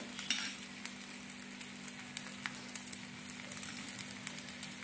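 Ghee sizzling around a rava dosa frying on a hot pan, a steady close crackling hiss with small pops scattered throughout, heard alone without talk.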